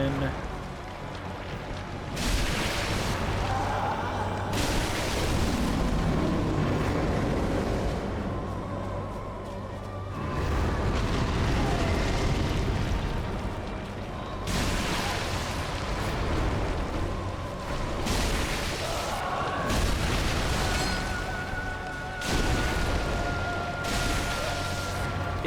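Magic missiles explode repeatedly during a Dark Souls III boss fight, giving heavy, rumbling bursts every few seconds with someone talking throughout.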